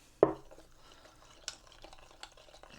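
A spoon stirring water and taco seasoning together: one sharp clink against the container, then faint, sparse scraping and liquid swishes, quiet and close.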